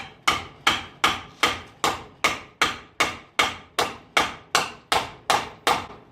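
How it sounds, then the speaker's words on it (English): Steady hammer blows drive a metal blade into a log, about fourteen sharp, evenly spaced hits, loud and close, with no talking. "drive it in there with your back of your axe, or in this case I used my hammer"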